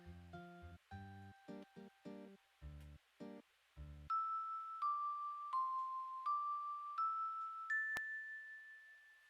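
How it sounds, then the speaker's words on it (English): A bell rings in the Quest for Glory: Shadows of Darkness game: first a run of short, low, chord-like tones, then a series of clear, sustained ringing notes stepping upward. The sound is loud and close, with no talking. "We probably have to ring the bell again."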